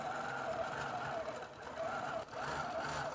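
A longarm quilting machine runs steadily while stitching across a quilt, its motor hum rising and falling in a continuous, moderately loud drone with a brief dip near the end.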